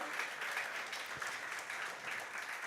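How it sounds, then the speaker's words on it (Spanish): Quiet applause rises from a church congregation during a Spanish-language Sunday service, a soft, even patter of many hands clapping that holds steady throughout and sounds distant and subdued. "Denle un aplauso a Cristo"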